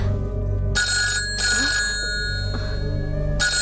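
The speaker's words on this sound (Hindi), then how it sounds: "भाई साहब का फोन आया है" A telephone rings with an incoming call, its electronic ringtone pulsing in several bursts over a steady low background hum, close and fairly loud.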